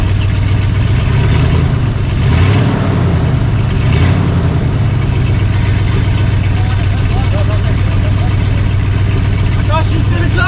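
Jeep J10 crew cab fitted with a homemade driveshaft, its engine running loud and close with a couple of brief revs swelling early before settling into a steady idle, with people talking over it.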